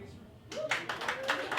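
Comedy club audience clapping at a live stand-up show, a small scattered round of handclaps starting partway through, moderately close, with talk over it.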